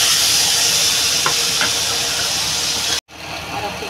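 Steady loud sizzling and hissing as water hits a hot pan of Bengali posto curry, continuing almost unbroken before a brief cut and then resuming.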